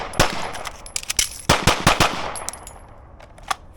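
Rapid gunshots from a live-fire shooting drill with a mag reload, loud and close, firing in quick bursts of several sharp cracks with brief pauses between them, then a final single shot near the end.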